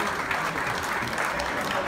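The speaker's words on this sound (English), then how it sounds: "Give her a big round of applause," Audience applause fills a cruise ship show lounge, a dense, steady wash of many hands clapping at close range for the whole stretch, with no voices breaking through.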